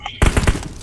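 Rapid tapping gunshots from a video game in a 3v3 match, three or four quick close cracks in a short burst.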